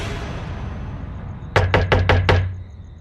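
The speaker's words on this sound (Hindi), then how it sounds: "घर का मुख्य दरवाजा जोर जोर से बजा" A house's main front door is pounded hard as a horror-story effect, five loud heavy knocks in quick even succession over a low dark rumbling background drone.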